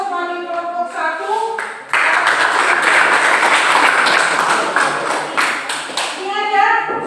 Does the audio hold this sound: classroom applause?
yes